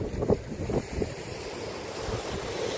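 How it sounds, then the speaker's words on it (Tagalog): Surf rolling onto a seaside shore at Kalibo, Aklan, with steady wash and gusts of wind buffeting the microphone, a few louder surges early on, and no talking. "tingnan nyo guys, katabi kami ng dagat"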